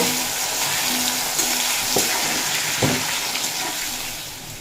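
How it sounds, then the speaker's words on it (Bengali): Potatoes frying with salt and turmeric in a pan give off a constant loud sizzle, broken by a couple of short clinks of a spatula. "আলুগুলো বেশ লাল লাল করে ভেজে নেওয়া হয়ে গেছে"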